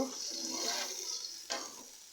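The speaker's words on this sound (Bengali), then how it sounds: "পানি দিয়ে একটু নেড়ে চেড়ে দিব" Fried spice paste sizzles softly in a pan after water is added, with a spoon stirring through it and one sharper scrape partway through, faint and without talk.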